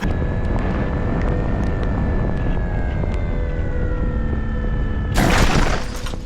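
A Boomerang E42 RC plane on its maiden flight in foggy weather, its electric motor whining steadily at a fairly even pitch for several seconds before a short, loud rushing burst near the end.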